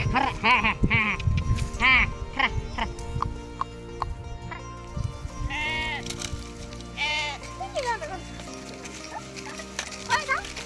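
A large herd of about two hundred goats, with sheep nearby, grazing outdoors during a Makar Sankranti outing, many loud overlapping bleats close by, with people's voices in the background.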